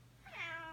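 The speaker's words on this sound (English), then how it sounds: "If you hear some moaning in the background, that is Bacardi, which is my kitty cat" A cat gives one short rising meow, faint and slightly distant, over a quiet indoor background.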